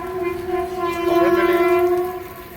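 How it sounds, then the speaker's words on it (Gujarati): A passing train gives a loud, steady tonal drone that swells toward the middle and then eases, close by. "અહીંયા ટ્રેન આવી ગઈ છે જો ટ્રેન જાય"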